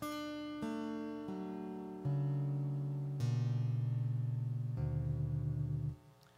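Guitar in an altered tuning, quiet and close: a slow sequence of about six single notes, each ringing and sustaining before the next, with the lower notes buzzing slightly before stopping.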